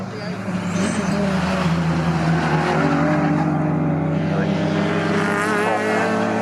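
Saloon race cars, including a Seat Leon and a BMW, race at Snetterton circuit with a loud sustained engine roar and shifting pitches, under continuous commentary.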